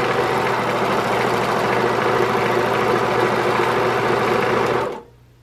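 An oiled, freshly dusted-off sewing machine stitching knit fabric with a new needle, a loud steady mechanical whir at close range running for about five seconds, then stopping abruptly into near silence.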